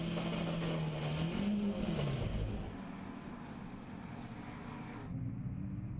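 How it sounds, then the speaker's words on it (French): A BMW 530i leads a Ford Escort RS 2000 at a historic car race on the Nogaro circuit. Engines roar past loudly with a falling pitch, then fade to a distant drone before rising again. "La BMW 530 IES qui mène la danse devant la Ford Escort RS 2000."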